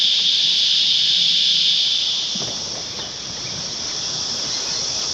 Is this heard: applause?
no